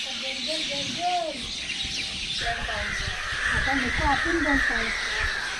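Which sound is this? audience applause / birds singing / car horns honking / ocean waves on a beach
birds singing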